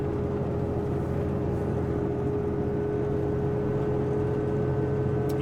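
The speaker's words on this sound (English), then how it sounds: "now the engine is pulling hard, doing the work to get it up the hill here" A truck engine pulls hard uphill on Boulder Canyon Drive with a constant, loud drone and a steady whining tone, unbroken from start to finish.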